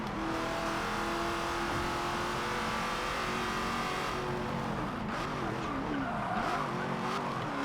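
Classic lime green race cars in Forza Motorsport 7 drone steadily through a vintage sport GT race, engine tones rising and falling with tires skidding and squealing throughout, loud and continuous with no talking.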